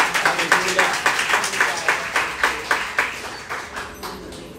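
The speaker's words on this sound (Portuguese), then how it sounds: "aplauda o Senhor com o seu melhor" A church congregation claps together in a quick, steady rhythm. The repeated claps sound fairly close, under a faint room murmur, and fade slightly toward the end.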